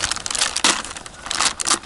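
Plastic packaging of a Ukrainian army ration crinkles and crackles as it is unpacked, close and loud in irregular bursts with no speech.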